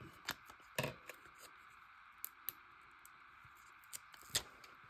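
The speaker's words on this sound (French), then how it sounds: "Je vais venir découper en fait le morceau qui me convient." Scissors cut through a piece of acetate sheet in a few crisp, separate snips against a quiet background, with short pauses between cuts.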